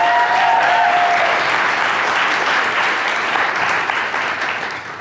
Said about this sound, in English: So please, again, give yourselves a round of applause